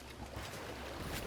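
Splashing footsteps wading through water in the Satisfactory video game, a soft continuous wash of sloshing with no clear separate steps, quiet and close.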